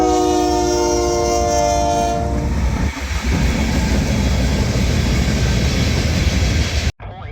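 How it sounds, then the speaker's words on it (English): A rebuilt locomotive on the NS Chicago Line sounds a loud, close horn chord for about two seconds, then its heavy rumble and rattling wagons roar past continuously. "It's a rebuilt locomotive."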